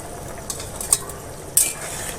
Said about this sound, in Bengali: ঝোলে ভালোভাবে বলক উঠে গেছে, এখন মাছগুলো দিয়ে দিচ্ছি।